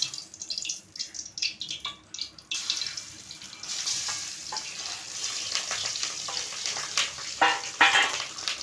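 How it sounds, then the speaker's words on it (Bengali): Fish roe frying in a hot pan for a village-style curry, a continuous close sizzle with crackling bursts and occasional stirring scrapes, no voices. "মাছের ডিমটা আমার ভাজা হয়ে গেছে"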